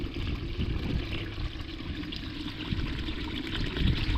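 Water flows steadily through the outlet of a small earthen mini dam built for farm plots, a continuous close trickling and gurgling rush with no speech.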